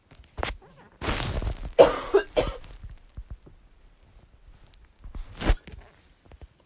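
A few harsh, close coughs break out, mixed with rustling and shuffling, then a quiet pause and another cough.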